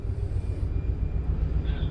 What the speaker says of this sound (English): The helicopters will be out for another 20 minutes gathering imagery.